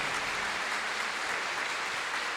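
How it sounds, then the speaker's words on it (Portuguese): Church congregation clapping to welcome a priest back to São José Operário parish, a dense, even round of applause from a large crowd heard at moderate distance, steady throughout. "Vamos acolhê-lo com uma salva de palmas"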